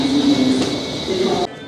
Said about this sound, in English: So this is inside of the train station.